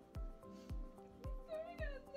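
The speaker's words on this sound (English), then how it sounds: "he is a black kitten" A black kitten, eight months old, gives a series of short meows indoors, fairly faint and close, repeating at a regular pace over a couple of seconds.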